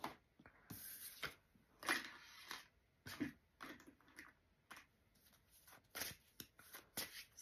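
A tarot card deck being shuffled close by in several quick riffling bursts with short pauses between them, crisp and faint, with no voices.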